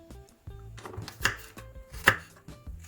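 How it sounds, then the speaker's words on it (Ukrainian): Garlic being sliced with a knife on a cutting board, a handful of irregular close knocks and cuts with two sharper blade strikes, fairly quiet and with no talking. "Нарізали цибульку, тепер нарізаємо часник."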